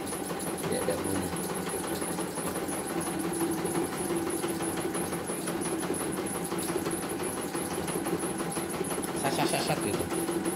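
CNY E900 embroidery machine runs after being oiled, a steady mechanical hum with a fast rattling whirr and a faint high whine, continuous and close throughout.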